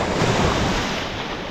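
Small, gentle waves wash onto a beach at Murder Hole Beach in Donegal, a continuous broad surf hiss with slight wind noise, steady and moderately loud, with no voices.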